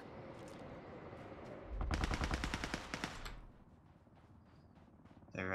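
A burst of rapid automatic gunfire from the video game Ring of Elysium, loud and close, lasting about a second and a half amid ambient game noise.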